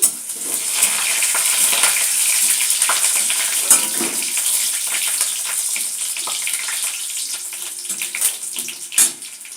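Crushed garlic frying in a pan of hot oil while red spinach is being made, with a steady bright sizzle and crackle running throughout and a few sharp pops and clinks near the end.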